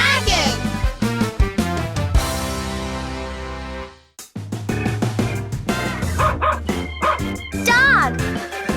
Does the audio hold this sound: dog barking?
yes